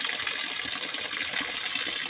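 Water flows and gushes steadily into a tilapia fish pond on a farm, a constant close rushing wash with no breaks.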